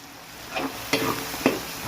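Pork, chicken and liver stir-fried with onions and black pepper in a pan, giving a low steady sizzle with three distinct scraping stirs of the spatula spaced evenly across the stretch, close by and with no talk.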